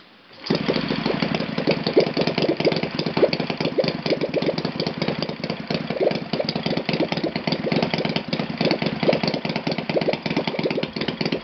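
An Enya VT 240 nitro model engine on 10% nitro fuel with a 20x8 propeller fires up and runs continuously, a loud, close, buzzing drone with a rapid even pulse that holds steady after the start.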